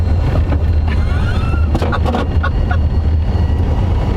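Tesla-powered Vanagon van running at quarter throttle, a steady low hum and road rumble with wind buffeting the microphone, continuous and fairly loud with no voices.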